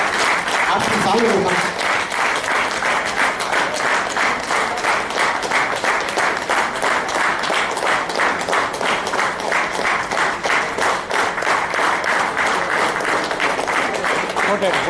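A large audience claps nonstop in a fast, even rhythm, loud and dense throughout, with a voice talking briefly over it near the start.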